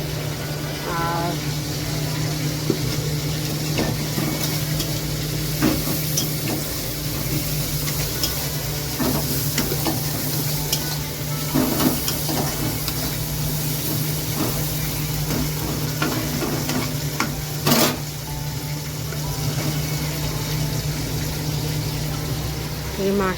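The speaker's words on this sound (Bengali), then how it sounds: "মাছটাও ভাজা হচ্ছে" Fish frying in a pan, giving a steady, moderately loud sizzle over a constant low hum, with scattered soft clicks and stirring knocks throughout.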